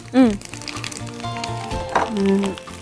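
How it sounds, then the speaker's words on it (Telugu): Tempering seeds hit hot oil for mamidikaya pulihora, raising a steady close sizzle and crackle while voices talk over it. "ఇలా తాలింపు గింజలు వేసి"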